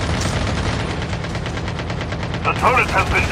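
Rapid automatic gunfire in Call of Duty Mobile's zombie mode rattles continuously and loudly up close, a steady stream of shots with a voice speaking over the end.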